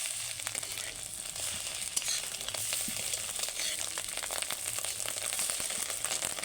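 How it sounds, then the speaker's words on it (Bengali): Fish roe pakoras fry in oil in a kadai with a steady, close, even sizzle and crackle that runs without pause, with no voices. "দেখো ডিমের পকোড়াগুলো আমার হয়ে গেছে কিছুটা কড়াতে দিয়ে রেখেছি এটা ভাজে নেবো"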